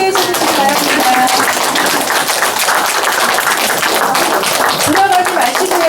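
Audience clapping at a small concert performance, a continuous patter of many hands with some sharper individual claps standing out, and murmured voices underneath the applause.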